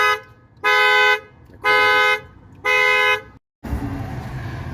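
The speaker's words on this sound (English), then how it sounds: "somebody's car alarm went off because a ball hit it" A car alarm goes off after a ball hits the car: three loud, evenly spaced honking blasts sound close by, followed by a burst of rougher noise once they stop.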